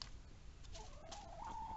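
Chickens cluck softly nearby over a low steady background rumble, with a drawn-out call rising near the end.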